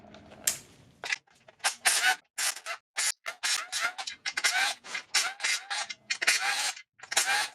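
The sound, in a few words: removing 10 mm oil pan bolts from an Acura MDX engine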